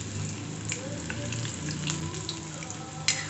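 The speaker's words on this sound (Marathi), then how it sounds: "तेल तापलेले आहे, आता आपण हे तळून घेऊयात" Poha nuggets deep-frying in hot oil on full flame, a steady bubbling sizzle that holds evenly throughout, with a sharper crackle near the end, close and clear, no talk.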